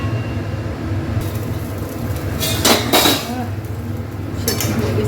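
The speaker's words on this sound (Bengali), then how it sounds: "ঢাকা দিয়ে দেবো একটু।" A metal lid is set onto a cooking pot while papaya and potato curry simmers, giving a couple of close, bright clinks and a brief rattle midway over a soft steady bubbling background.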